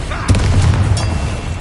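An Incendio fire spell cast in the Hogwarts Legacy video game, a loud booming whoosh with a sharp burst near the start and a heavy low rumble that sustains through the short moment.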